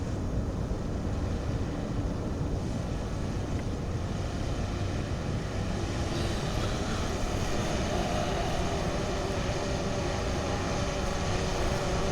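A DJI Mavic 2 Zoom drone comes in to land, giving a steady, continuous whirring drone of rotors with rough wind noise across the microphone throughout, and no voices.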